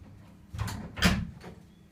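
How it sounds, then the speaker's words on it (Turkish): Indoor door being shut at home: two soft thuds about half a second apart, the second a sharper bump, over quiet room noise with no talk. "Tamam şu kapıyı da kapatayım ben."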